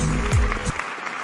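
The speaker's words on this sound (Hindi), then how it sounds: "सब लोग जोर से तालियां बजाने लगे" An audience at a college freshers' party bursts into applause after a dance, a short close burst of clapping mixed with cheering and voices that fades quickly.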